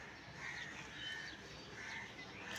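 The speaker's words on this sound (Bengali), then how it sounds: "কিচিরমিচির, এই যে কাক একটা এসে বসে আছে" A crow perched near a garden gives a few faint, harsh caws against a quiet outdoor background, heard at some distance.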